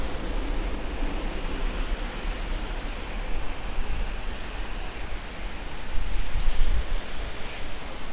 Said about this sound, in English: the wind is about 15 to 25 miles an hour depending on the gust